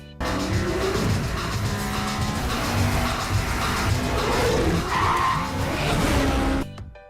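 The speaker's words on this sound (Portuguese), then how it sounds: "Eles então decidem pegar dois novos carros, fazendo um racha." Cars street racing in a Fast and Furious film, with tires skidding and squealing over roaring engines, loud and continuous for several seconds before cutting off abruptly.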